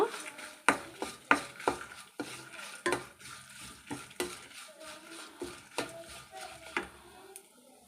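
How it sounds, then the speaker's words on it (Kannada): Black peppercorns dry-frying in a pan, a spoon scraping and clinking against the metal in a steady run of sharp knocks, with a soft sizzle underneath and no voices. "ಇವಾಗ ಇದನ್ನು ಚೆನ್ನಾಗಿ ಸ್ವಲ್ಪ ಹಸಿ ವಾಸನೆ ಹೋಗೋ ತನಕ ರೀ ಫ್ರೈ ಮಾಡ್ಕೊಳ್ಳೋಣ."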